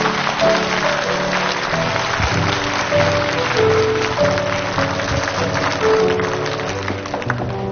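Sustained, dense applause from a studio audience on a Chinese TV talk show as a young married couple is welcomed, with steady tonal music playing underneath throughout.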